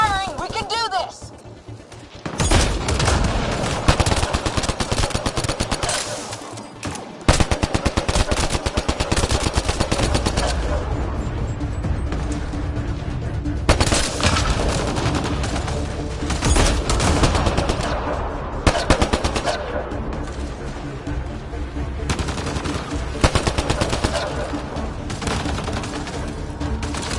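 Continuous heavy gunfire in a PS4 video game, loud dense automatic bursts with short breaks and explosive hits running throughout, with game voices shouting underneath.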